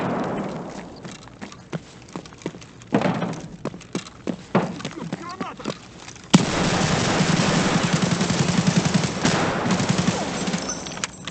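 Gunfire in the Escape from Tarkov Factory map: scattered single shots and footsteps give way to a loud, sustained burst of rapid automatic fire exchanged at close range.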